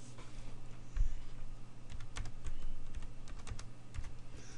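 Quiet, close typing on a computer keyboard, with irregular bursts of light key clicks over a low background hum and no voices.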